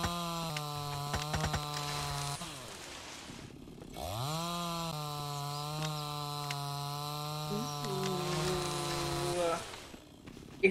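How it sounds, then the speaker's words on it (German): A chainsaw in the survival video game MIST Survival revs and drones steadily, dipping briefly before spinning back up to a sustained whining buzz that runs for several seconds. "Und ich wollte noch die Kettensäge ausprobieren."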